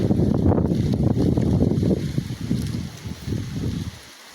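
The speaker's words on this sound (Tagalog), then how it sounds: "Sobrang lakas ng hangin." Strong wind blows across an open farm field, a loud, continuous roaring rush buffeting the microphone, easing somewhat near the end before dropping away.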